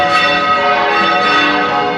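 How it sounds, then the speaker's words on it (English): Church bells ring together in Orihuela, a dense, continuous wash of overlapping metallic tones that is loud and sustained for the whole stretch. "when the bells stop, we'll talk to you"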